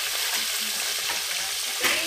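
Food fries and is stirred in a pan with a dense, steady sizzle and soft scraping stirs, then a sharper clatter of the utensil near the end.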